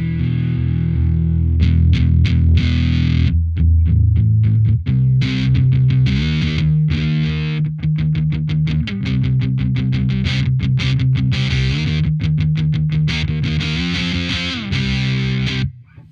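Electric guitar played through a Guyatone TZ-2 fuzz pedal at a moderate depth setting, with thick distorted chords and dynamic, palm-muted chugging riffs that are loud and steady throughout, with no talking.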